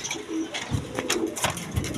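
Pigeons for sale, male and female, give soft, low, repeated coos close by, with a few rustles between the calls.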